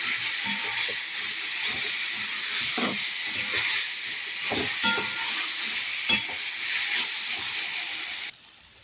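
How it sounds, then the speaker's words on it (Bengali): Leafy greens hiss and sizzle loudly in a frying pan, with soft stirring strokes under the steady steam noise, which drops away abruptly just before the end. "এখন আমি শাকগুলো দিয়ে দেবো।"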